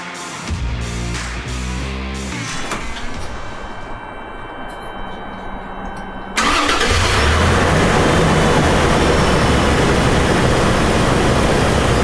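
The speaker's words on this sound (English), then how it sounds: "And then we start it." Toyota 4Runner V6 with a newly installed supercharger cranks with rapid starter chugs, catches, and settles into a loud, steady idle heard up close.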